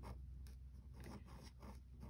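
A small wax-sealed stationery pen scratches across paper in a run of short, soft strokes, fairly close against a steady low hum and no talk.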